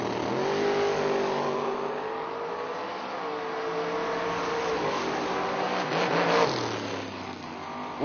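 Door cars at a drag racing event, the Bulb Nationals, rumble and rev in the lanes, a sustained engine drone with shifting pitch from several cars, moderately distant.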